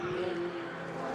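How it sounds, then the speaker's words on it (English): A Ferrari 488 race car engine drones steadily at a distance during a Ferrari Challenge Europe race at Valencia, a sustained high mechanical roar without a break. "Sound of this fantastic 488 car."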